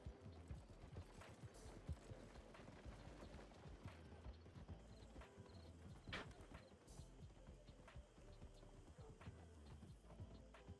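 Steady rhythmic hoofbeats of a horse trotting in a video game, continuous and fairly close, with occasional louder clops over a low background rumble.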